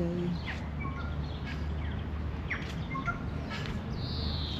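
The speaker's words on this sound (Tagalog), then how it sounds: "Yung huni ng ibon. Ang dami nila." Birds chirp outdoors at the St James historic site in New Zealand, several short, scattered calls over a steady rumbling background.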